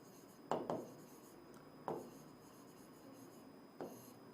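Pen or chalk writing during a physics lecture on electrostatic potential makes quiet scratchy strokes in a few separate bursts, with near silence between them.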